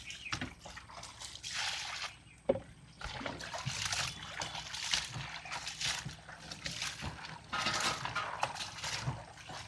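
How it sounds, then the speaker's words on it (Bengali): Taposhi fish being washed by hand in water while cooking in the Sundarbans, with splashing and trickling in uneven bursts, close and fairly loud. "এবার হচ্ছে আমাদের মাছ ওয়াশ করা হবে"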